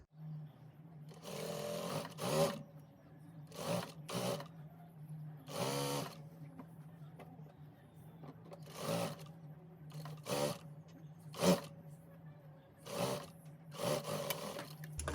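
A sewing machine stitches a gown sleeve onto the bodice in short, repeated bursts of whirring, each lasting about a second, separated by brief quiet gaps.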